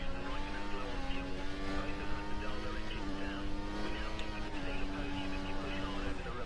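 Formula 1 car engine from the F1 2014 racing game, running with a high turned-up engine setting during a race; a loud, steady, high-pitched whine continues throughout without a break.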